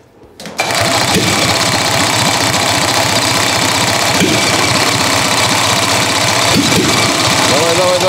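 Gasoline engine converted to run on diesel fuel cranks for a moment, catches and settles into a loud, close, rough knocking idle that holds steadily to the end.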